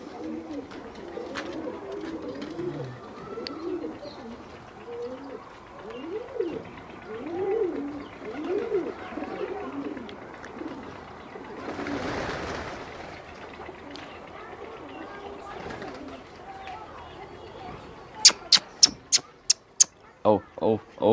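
Soft, repeated pigeon coos murmur through the clip alongside scattered chirps, with a burst of noise midway and a few sharp clicks near the end.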